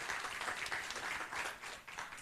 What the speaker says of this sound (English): So let us give them a warm round of applause